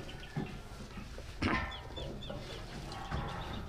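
Kalahari Red gamefowl roosters clucking at a farm, faint scattered clucks and short calls over low background noise, a few sharper bursts standing out.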